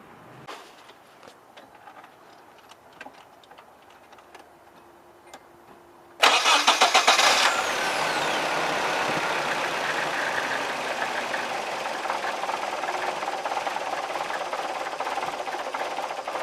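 A car engine with its fuel pump relay removed: soft clicks, then the engine cranks and catches abruptly. It settles into a steady, loud idle that keeps running without stalling.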